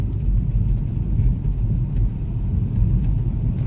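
A car passing on a scenic coastal highway, heard as a steady loud low road rumble throughout, likely from inside a moving vehicle, with no talk.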